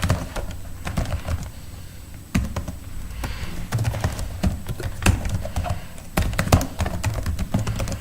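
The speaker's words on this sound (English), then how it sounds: "This keyboard needs to be replaced." Typing on a Dell laptop keyboard with worn keys that need hard presses, close and loud, as irregular clusters of clacks and thumps with brief pauses in between.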